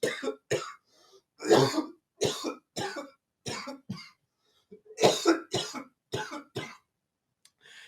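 A series of dry coughs and throat clearings, close and fairly loud, in irregular bursts separated by short silences.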